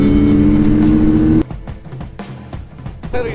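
Triumph Street Triple RS motorcycle engine revving hard with a steady, loud high-pitched drone, then dropping to a rougher, uneven rumble with intermittent throttle blips, close by.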